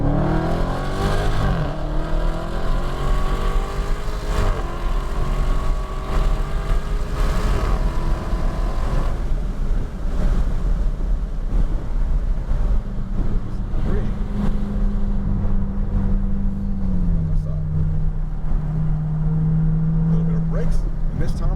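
Dodge Challenger Hellcat Redeye on a track, engine roaring loud and close under full throttle with rising and falling revs, while an instructor talks over it throughout.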